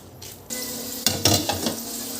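Bitter gourd frying in a pan at home, a steady sizzle that jumps louder about halfway through, with a few sharp stirring scrapes and clinks near the end, close and alone with no voices.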